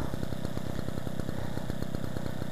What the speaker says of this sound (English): I'll leave it running, because the engine is really sweet on this one. It's got a nice little two-stroke pop-pop